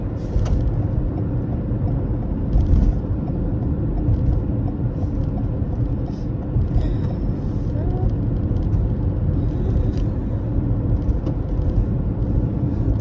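Steady rumble of busy road traffic with cars and buses passing, a continuous loud wash of engine and tyre noise throughout, with brief voices in the mix.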